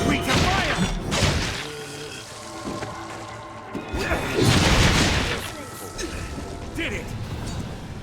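Fire attacks strike a large creature in the fantasy game Dragon's Dogma: Dark Arisen, loud crashing impacts and booming whooshes rising around the second and fifth seconds over a busy battle din, with voices calling out.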